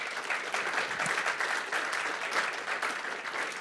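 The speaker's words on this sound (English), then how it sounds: "Can everybody please give Uncle Larry a round of applause?" An audience at a museum lecture on First People's storytelling gives a round of applause, with steady, even clapping for a few seconds and no talk over it.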